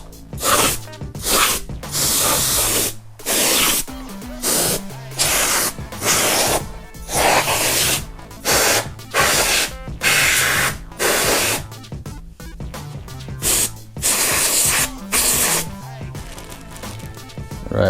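Compressed air blasts in repeated short bursts to clean the fan of a PS4 Pro console, each loud spray hiss separated by brief pauses in an irregular rhythm.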